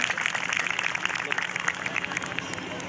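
A crowd at a Dalit community mahapanchayat in Moradabad gives loud, dense, continuous applause to speaker Sushma Kashyap, a steady wash of clapping with murmuring voices underneath.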